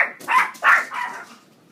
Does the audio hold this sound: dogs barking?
yes